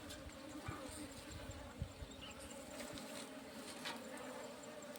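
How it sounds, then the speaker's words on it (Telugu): Wild honey bees swarm around a honeycomb taken from a mound nest outdoors, making a steady, fairly faint buzzing drone that continues throughout with small rises and no voices. "వీటి మీద కూడా ఇప్పుడు ఈగలు అలానే ఉన్నాయి"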